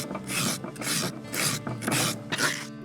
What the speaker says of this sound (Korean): 무채 대신 무를 갈아 넣었답니다